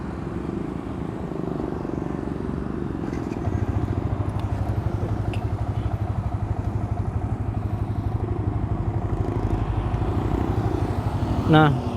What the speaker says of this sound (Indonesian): Ayo kita naik motornya.